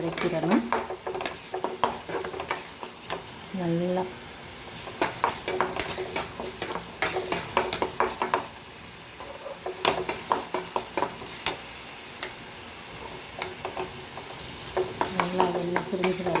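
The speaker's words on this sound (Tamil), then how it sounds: "வதக்கணும் நல்லா எண்ணெய் பிரிஞ்சு வர அளவுக்கு" Masala sautés in oil for white chickpea chana masala while a spoon scrapes and clatters against the pan in quick bursts over a sizzling bed, with a voice talking at times.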